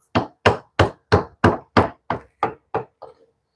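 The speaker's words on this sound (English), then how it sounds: "am gonna try to chisel this thing out." Ten sharp, evenly paced blows of a hammer striking a chisel to cut something out, loud and close, the last strike fading softer.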